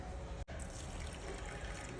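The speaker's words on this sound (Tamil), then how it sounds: "அது இப்ப தண்ணி ஊத்திடு." Water poured steadily into a pot of raw rice for cooking in a home kitchen, a continuous close splashing wash with one brief break.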